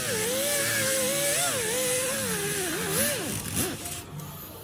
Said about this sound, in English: I'm going to try just a little slight sanding, which works really well and just takes it off.